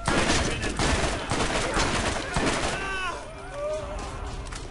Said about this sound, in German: hier schießt doch gerade irgendwer.